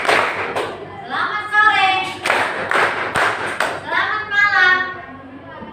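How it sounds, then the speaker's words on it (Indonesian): Group of students clapping in rhythm during a classroom greeting game, sharp claps recurring under a teacher's spoken greetings, fairly close and moderately loud. "Tadi telat mulu nih tepukannya"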